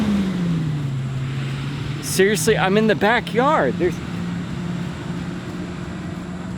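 A truck drones steadily past a backyard lawn, its low engine hum running the whole time beneath a man's brief spoken remark.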